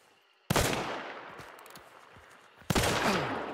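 Two sharp, loud gunshots from the game Hunt: Showdown crack out, one near the start and another about two seconds later, each trailing into a long rumbling reverberant decay.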